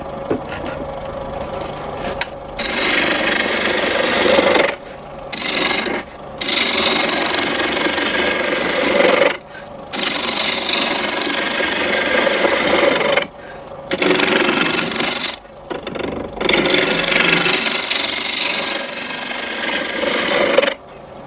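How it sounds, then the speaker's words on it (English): A 1-inch roughing gouge cutting wood on a running lathe while turning a dead blow mallet, giving a loud, steady rasping hum in long stretches, broken by several short pauses as the tool lifts away. "I'm using a 1-inch roughing gouge."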